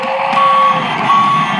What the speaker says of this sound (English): Beep beep beep beep beep beep beep beep Markslin.